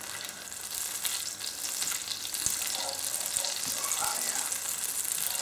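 Leftover bubble and squeak fries over medium heat in a pan, a dense continuous sizzle with soft scraping as it gets a quick mix, steady and close throughout.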